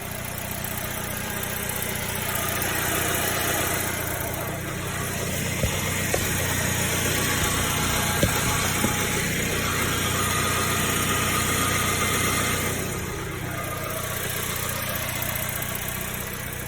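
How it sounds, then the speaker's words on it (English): A Kia Soul that sat unused for four years runs after an intake gasket repair. The engine idles steadily with a low hum and mechanical vibration, close by and even in loudness, with no voices over it. "Yep, there you have it. Running and driving."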